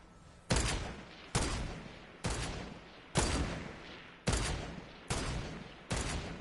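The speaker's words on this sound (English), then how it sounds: "I hear a ton of shooting." Heavy gunfire in a multiplayer shooter game, seven loud, booming shots at a steady rhythm about one second apart, each with a long decaying tail, with no one speaking over them.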